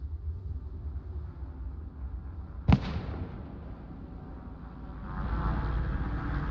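A mortar round explodes in Arma Reforger, a single sharp blast that rumbles away into a low, steady battlefield din. No voices are heard.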